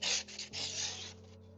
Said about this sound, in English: maybe it is worth giving it a quick sand